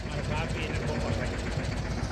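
A loaded farm tractor rolls past on a village road, its engine giving a steady, loud low rumble throughout with voices over it.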